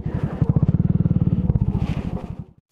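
Motorcycle engine idling with a rapid, steady chug, close by and loud, arriving at a roadside cafe at Pandala in the Aravali Hills near Gurugram on a group ride; it putters on then cuts off at the end.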